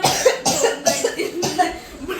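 A person coughs several times in quick succession, close and fairly loud, with no talk around it.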